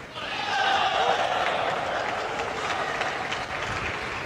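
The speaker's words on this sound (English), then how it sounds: "You could hear the roar, the cheer from the side of China as well." Crowd applause and cheering at a table tennis quarterfinal of the Asian Team Championships, a broad sustained roar of claps and shouts swelling early then holding steady under faint talk.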